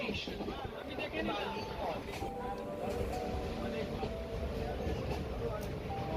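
A local train runs between Dumdum and Kamarkundu toward Bally Halt station with a continuous heavy rumble and rattle heard from inside the coach, and murmuring voices mixed in throughout.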